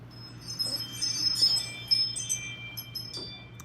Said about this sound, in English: There's our chimes again.